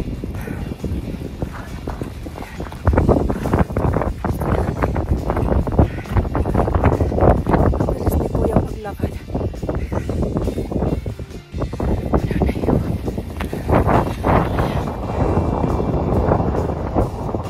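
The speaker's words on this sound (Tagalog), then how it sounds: "sobrang hangin dito." Strong gusting wind on a foggy mountainside at Verbier, Switzerland roars and buffets the microphone throughout, loud and continuous with rough surges and brief dips.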